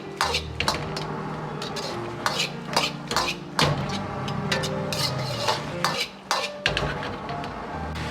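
Cauliflower is stir-fried in a wok, with repeated sharp metallic scrapes and clinks of a spatula against the pan over a soft sizzle, in a quick uneven rhythm.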